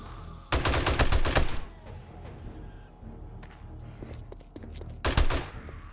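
M60 and SMG turrets in 7 Days to Die fire in two rapid bursts during a blood moon, with quieter distant shots in between, loud and without talk.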